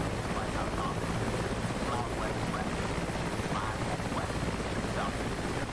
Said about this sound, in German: Ja, das ist wohl der Helikopter